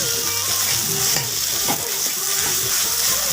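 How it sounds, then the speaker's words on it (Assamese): Prepared mashed potatoes stirred around a hot pan: a loud, constant sizzle with scraping strokes from the spoon, over background music. "এতিয়া মই ৰেডি কৰি লোৱা আলু পিটিকাখিনি ইয়াতে দি দিম আলুখিনি দি ধুনীয়াকৈ লৰাই দিম"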